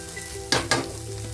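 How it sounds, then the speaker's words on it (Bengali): Potato pieces fry in oil in a kadai while a spatula turns them. A steady close sizzle carries two quick, loud scraping strokes, and no one speaks. "এভাবেই করে আলু পালট করে ভেজে নিতে হবে"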